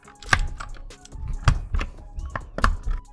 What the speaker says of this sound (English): Let's go ahead and take the keys out and take a couple of the switches out.